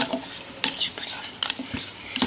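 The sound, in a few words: stirring butter slime mixture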